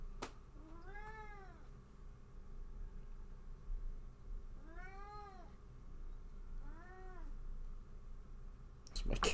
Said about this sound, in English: It's my cat again.